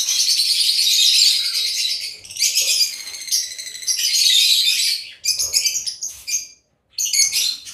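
Several African lovebirds chirp in a cage, a dense, continuous stream of bright, high tweets and squawks close by with short gaps, and no talking.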